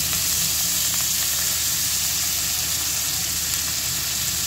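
Finely chopped fenugreek leaves are added to cumin seeds sizzling in hot oil, producing a steady, even hiss that stays close and continuous with no voices.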